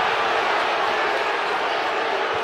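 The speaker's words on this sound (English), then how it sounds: "How about this crowd?" Dense, steady roar of a basketball arena crowd cheering at an NCAA game between Murray State and Auburn, loud and continuous with no clear breaks.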